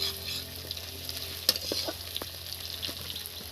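Onion sizzling in hot oil with spices such as cloves for a masoor dal, a steady frying hiss with a few stirring clinks and scrapes, close and alone without talk.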